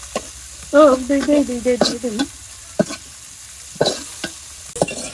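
Spices tempering (phoron) in hot oil, a soft sizzle under a tonal voice-like sound early on and a few sharp clinks and stirring scrapes, close and fairly quiet between bursts.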